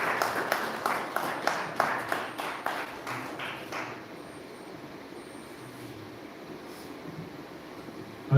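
An audience claps at a community launch event for a temple's security and safety team. A burst of applause is fairly close for about four seconds, then fades into quiet room noise.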